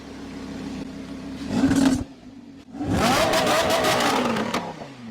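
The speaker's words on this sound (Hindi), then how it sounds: "अब क्योंकि गाड़ी ऑन हुई है तो जरा इसका रॉर भी सुना देते हैं" A car engine with stock exhaust revs up twice, a short throaty burst followed by a longer, louder rev, with a lower idle between them.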